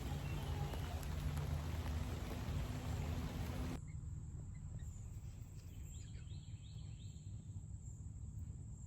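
Rain falling outdoors and growing heavier, a dense steady hiss that fills the first few seconds loudly, then continues as softer broadband patter with faint insect-like chirps in the background.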